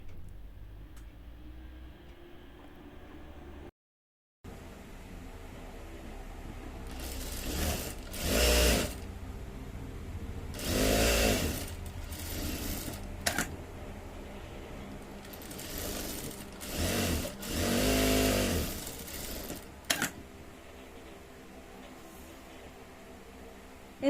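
A sewing machine stitches the seams of a child's dress, running in several loud bursts of a few seconds each, separated by quieter pauses, with no talking.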